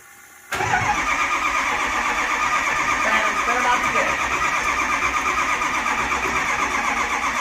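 A Ford F150 Powerstroke diesel truck cranks and fires about half a second in, then settles into a loud, steady, close idle while voices speak nearby.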